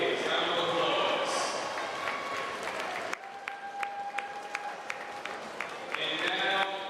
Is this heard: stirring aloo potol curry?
no